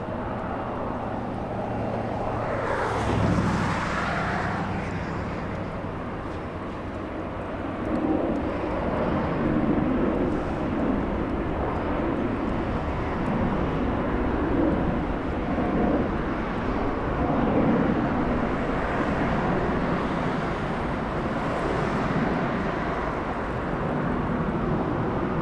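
Virgin Atlantic airliner at LAX, a steady distant jet engine rumble that holds through the whole stretch, with a brief louder swell early on and a constant broad roar of airport noise.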